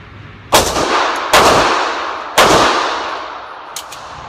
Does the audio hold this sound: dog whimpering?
no